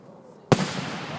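Fireworks burst over Carnation: a single sharp, loud pop breaks an almost silent moment, followed by a long crackling, hissing tail that slowly fades.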